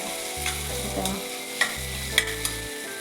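Hatga flower vegetable frying and being stirred in a pan for a traditional rural Marathi dish: close sizzling with scraping stir strokes and a few clinks, with a low pulsing hum in between, no voices.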